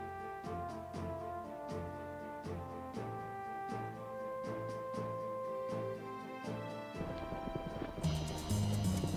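Steady clip-clop of galloping racehorse hooves on a dirt track in the game Gallop Racer, rhythmic and continuous, over a looping melodic soundtrack, growing busier near the end.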